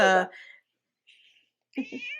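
A pet cat meows close into a microphone: a loud cry at the start, a faint short mew in the middle, then two quick chirps running into a longer meow at the end.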